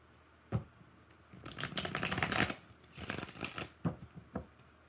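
Tarot cards being shuffled by hand in two quick riffling bursts, with a few soft taps and knocks of the deck before and after, close and quiet with no talk.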